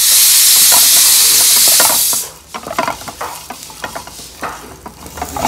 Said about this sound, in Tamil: முதல்ல எண்ணெய் காஞ்சதும் பெருங்காயத்தை போட்டுக்கலாம் பெருங்காயம் பொரிஞ்சு வரணும்